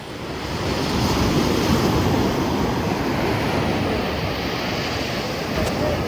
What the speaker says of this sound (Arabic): وبالمسا نزلنا على البحر